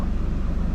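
A Mazda NC sports car engine on a dyno, running steadily with a pulsing low rumble that has a very brief, even beat, close and loud.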